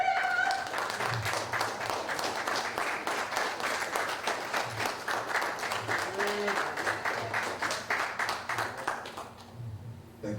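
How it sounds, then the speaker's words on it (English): Lecture audience at a Jacksonville event applauds steadily, a dense crowd-wide clapping that holds for about nine seconds before fading out abruptly near the end. "Can you put your hands together for Professor Griff?"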